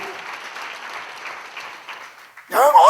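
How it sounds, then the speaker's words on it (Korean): A church congregation breaks into applause during a sermon, a short burst of clapping arriving at the end right after the preacher's voice, fairly close and loud. "박수."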